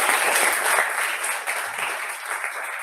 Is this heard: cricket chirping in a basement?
no